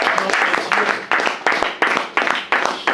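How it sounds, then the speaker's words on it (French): Rhythmic group clapping at a church Bible study, about eight strong beats in steady time, loud and close, with voices mixed in. "Est-ce que quelqu'un peut applaudir?"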